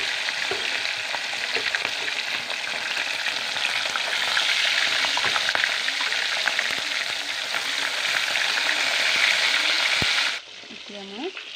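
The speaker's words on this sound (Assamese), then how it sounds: "মই এতিয়া মাছ ভাজিবলৈ লৈছোঁ।" Fish fries in hot oil in a kadai with a constant, loud crackling sizzle that lasts over ten seconds, then drops suddenly to a quieter background with a faint brief sound.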